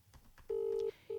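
A phone places a call by voice command, sounding a steady dialing tone that holds for about half a second, then breaks and restarts briefly, with faint background sound beforehand.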